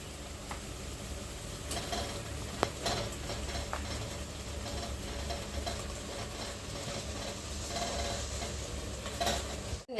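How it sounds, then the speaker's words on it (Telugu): Goat mutton, tipped into masala already fried in a pan for a Rayalaseema-style curry, gives off a steady close sizzle while a spoon stirs and scrapes, with occasional clinks of metal. "మసాలా అయితే మంచిగా అయితే వేయించుకుందాము. మంచిగా అయితే వేగింది. మటన్ అయితే వేసుకుందాము."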